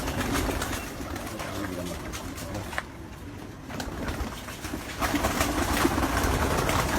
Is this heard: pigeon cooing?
yes